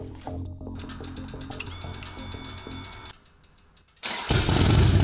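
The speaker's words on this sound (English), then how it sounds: "but to hear that engine bubbling is a huge relief for the McCulley brothers." Harley-Davidson motorcycle engine on a flat battery cranks with a mechanical clatter, then fires into a steady, loud, bubbling idle with a burst of revving at the end.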